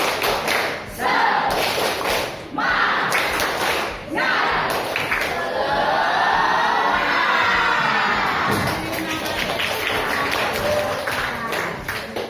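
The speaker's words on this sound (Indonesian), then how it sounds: "Bersama-sama tepuk semangat." Schoolchildren in a classroom perform a rhythmic spirit clap chant together, bursts of unison clapping and thumping alternating with shouted voices, loud and close, with the group chanting in between claps.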